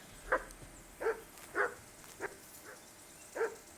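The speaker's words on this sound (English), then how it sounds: "Mutt is barking" A dog in the video game Kingdom Come: Deliverance gives six short, sharp barks spaced about half a second apart, moderately loud over a quiet background, with no other sounds.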